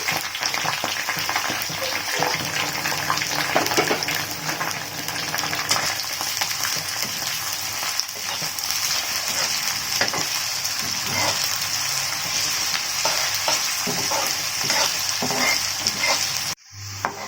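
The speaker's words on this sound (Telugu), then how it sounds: "ఇదంతా బాగా ఎరుపు రంగు వచ్చే వరకు వేయించుకోవాలి" Sliced onions fry in a pan for prawn biryani, a steady loud sizzle running throughout with stirring scrapes, cutting off abruptly near the end.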